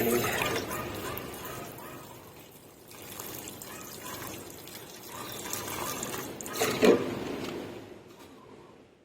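Water runs and pours from a tap into a container for watering garden plants, a steady splashing flow with a brief louder splash near the end, while a person talks over it.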